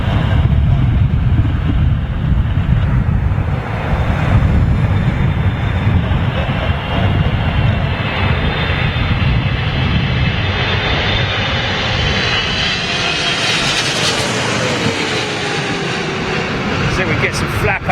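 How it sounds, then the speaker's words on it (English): An American Airlines Boeing 777 lands at London Heathrow in strong crosswinds, its engines roaring loud and steady throughout, with wind buffeting the microphone and the engine tone shifting as the jet nears. "So this American 777 making his way in right now."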